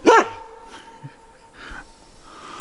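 A single sharp dog bark right at the start, followed by quiet snuffling and breathing sounds nearby.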